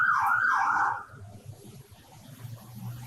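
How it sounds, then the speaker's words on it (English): A loud siren sweeps past close by during a pest-control talk, its wailing tone strong for about a second and then dropping away abruptly, leaving low rumbling traffic noise. "you're going to have to put up with this siren as it comes by me"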